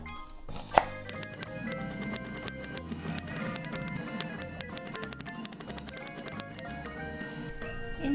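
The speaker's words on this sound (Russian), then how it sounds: "В это время нарезаем лук, режем его мелкими кубиками" Rapid, uneven knife taps on a cutting board as an onion is diced, with a steady tonal background bed running throughout.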